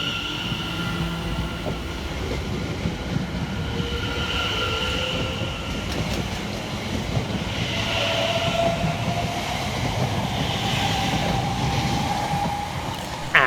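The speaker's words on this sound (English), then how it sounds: "we see the departure of 7:10:259 and 7:10:128, working the 10:27 London Overground service from London Liverpool Street" A London Overground electric train departing Silver Street station, a steady rumble of wheels on rail with faint squeals and tonal motor whine, mid-distance and continuous, with no talk.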